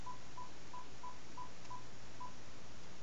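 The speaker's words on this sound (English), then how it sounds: "Let's get to work calling my cell phone number." Telephone keypad tones dialing a cell phone number: seven short, evenly spaced beeps in quick succession, clear and close over a faint steady background hum.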